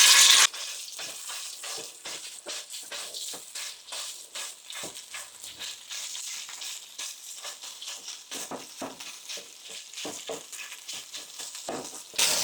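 Homemade sausage frying in bacon grease in a skillet, a steady close sizzle and crackle with occasional scraping stirs, louder bursts at the very start and end.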